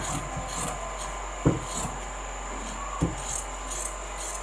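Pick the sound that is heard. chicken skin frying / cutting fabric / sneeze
cutting fabric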